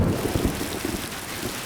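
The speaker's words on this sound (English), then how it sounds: "It's raining like crazy." Heavy rain pours outside a bungalow, a dense, loud, continuous wash of falling water with low rumbling underneath.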